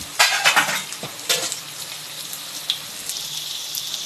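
Drumstick curry being stirred in a pan, a few scraping strokes with a soft sizzle underneath, close and fairly loud at first, then settling into a quieter simmer.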